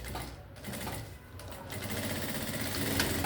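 Sewing machine stitching a garment seam, a fast steady mechanical whir with rhythmic needle chatter, close and continuous for a few seconds.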